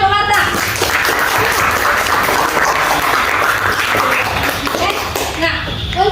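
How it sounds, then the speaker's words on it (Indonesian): Classroom of students clapping for a standout pupil named Marta during a lesson, dense steady applause filling the room throughout, with a few young voices and some shuffling mixed in near the end. "Ya, tepuk tangan untuk Marta."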